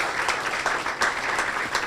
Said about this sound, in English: Give yourself a hand on that.